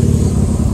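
A 2001 Mustang Cobra V8 with a Flowmaster exhaust, Hooker long tube headers and an X-pipe produces a loud, deep, steady engine roar up close, heavy and rumbling for a brief moment.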